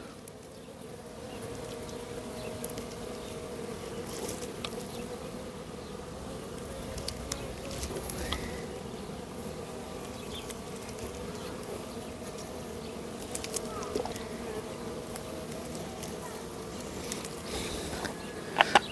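Honey bees buzz at a hive being treated with oxalic acid against varroa mites. A dense, steady drone of many insects carries on close by with scattered taps and knocks, and nobody speaks.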